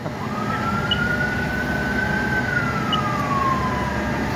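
Fire engine siren wailing in a long rising and falling sweep at a North Long Beach house fire, steady and fairly loud against street background noise, with no talk.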